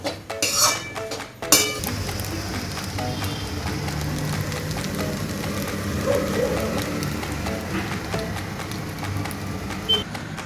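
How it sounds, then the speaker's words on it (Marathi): Pasta with tomato ketchup is stirred in a pan, a steady clatter of utensil against metal with scraping and clinks that runs continuously, loudest near the start. "आता आपण याच्यात टोमॅटो केचप टाकत आहोत पुन्हा एकदा मिक्स करून घेऊ"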